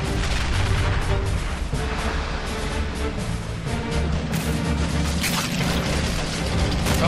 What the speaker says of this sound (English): they are under a lot of fire from a heavy tank